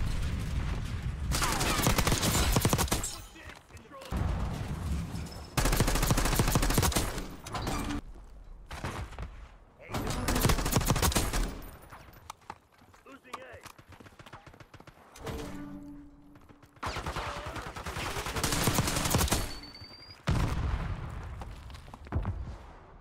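Jackal PDW submachine gun fire in the video game Black Ops 6 rattles in loud, rapid sustained bursts separated by brief gaps, with other in-game effects mixed in.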